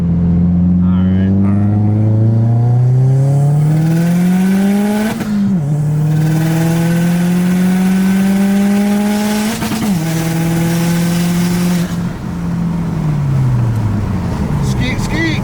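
A Subaru car engine revving at full throttle on tracks in the mountains, loud and close, climbing in pitch through repeated gear shifts with brief dips between pulls.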